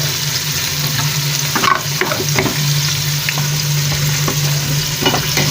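Plantains, meat and potatoes stirred in a cooking pot, with a loud, close sizzle under a low steady hum and a run of scraping, clacking utensil strokes in the middle, no talk.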